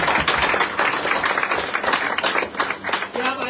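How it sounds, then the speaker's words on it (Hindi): Audience at a company gathering claps enthusiastically for the management, a dense burst of many hands, loud and close, with voices mixed into the applause. "एक बार जोरदार ताली होनी चाहिए मैनेजमेंट"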